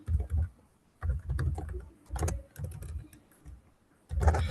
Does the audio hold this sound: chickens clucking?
no